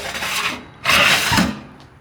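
A grease pan and deflector are slid and fitted into an infrared steak grill, giving two loud scraping, rubbing bursts of metal on metal, close by, with no talk.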